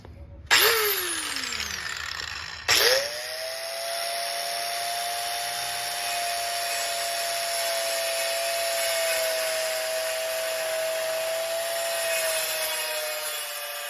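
A power saw cuts through vinyl plank flooring during a repair, giving two short sharp bursts as it starts, then a steady, sustained high whine that carries on to the end.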